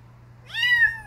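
A single cat gives one short, rising meow up close after a quiet moment, clear and alone over a low background hum.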